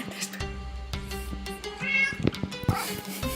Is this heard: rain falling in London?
no